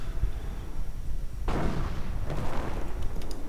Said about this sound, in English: Another one with a 50 caliber.